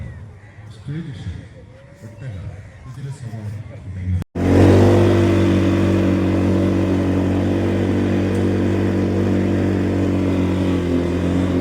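A beach ride vehicle at Azhikode Munakkal Beach starts up loud and close, its engine running steadily and droning on after a brief quieter stretch with talk.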